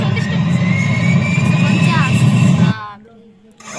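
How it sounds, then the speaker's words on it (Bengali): Jet aircraft engine roaring loudly as a sound-level example, a dense broadband rumble with a rising high whine that cuts off abruptly near the end, leaving a quieter tail. "এটা হচ্ছে জেট প্লেনের আওয়াজ"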